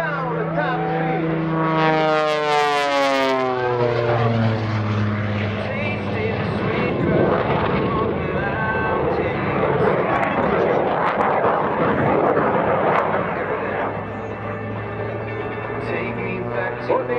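A propeller airshow plane fitted with an added CJ610 jet engine dives at top speed, its roar sweeping down in pitch as it passes close, then a loud sustained engine rumble with a commentator talking over it.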